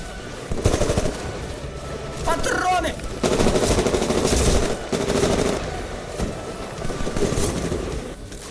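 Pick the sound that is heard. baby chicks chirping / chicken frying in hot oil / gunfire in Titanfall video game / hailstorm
gunfire in Titanfall video game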